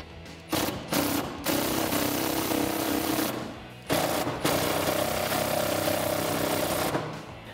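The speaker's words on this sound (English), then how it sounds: "Now we can remove the 2 bolts on the inside of our airbox using a 12mm socket." Bolts being worked loose from a Tacoma airbox with a 12mm socket on a 5-inch extension: loud rattling, buzzing tool bursts with brief pauses between them, close up.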